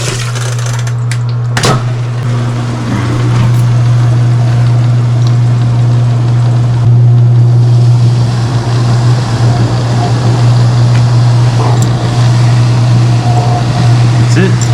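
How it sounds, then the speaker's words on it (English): A washing machine runs its spin cycle with a loud, steady low hum and drone that holds throughout, a brief knock early on, close by with no talk. "let's put it in the spin cycle"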